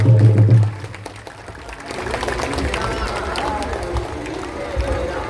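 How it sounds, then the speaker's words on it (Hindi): A large crowd at a Ram Katha religious gathering in Kandivali breaks into loud, sustained applause, a broad wash of clapping that swells after a low rumbling opening and continues steadily. "जोरदार तालियां"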